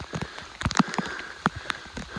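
Rain patters on an Alpine hiking trail in April, with scattered drops tapping close by, uneven footsteps and rustling on wet ground, all faint and irregular.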